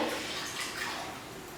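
Water pours steadily into a kadhai, a soft continuous splashing stream heard up close for a moment.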